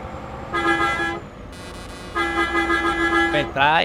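A modded truck horn in Euro Truck Simulator 2 honks in two bursts, the second long and held, then a rising tone-like sweep ends the passage, loud and close over a low engine bed.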